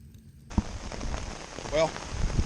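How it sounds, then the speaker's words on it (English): Steady rain patters on a campsite, a dense wash of drops throughout with a few sharper impacts, while a voice briefly sounds partway through. "Well, we're getting rained on pretty good now."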